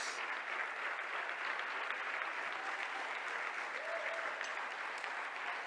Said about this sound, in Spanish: Dale tu mejor aplauso al Rey de Reyes.